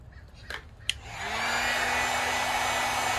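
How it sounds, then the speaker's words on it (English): A heat gun starts up and runs, warming a surface before 3M tape is applied for a Can-Am Ryker badge; a few handling clicks come first, then a steady, close, loud blowing whir with no talking. "that's why I'm just using the heat gun"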